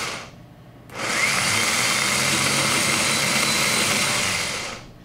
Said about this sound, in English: So you've got to use the starter.